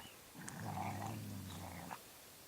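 A dog growls in a low, continuous snarl while fighting another dog, rising and falling for about two seconds at modest volume with no voices.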